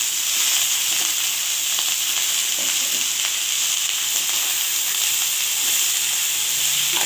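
Cabbage, chickpeas and fried potatoes with bay leaf and dried chilli sizzling in a pan, a loud, steady hissing fry close by with faint stirring.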